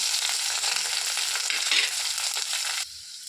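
Small onions and curry leaves frying in hot oil in a pan, a loud, bright continuous sizzle close up that drops off abruptly near the end.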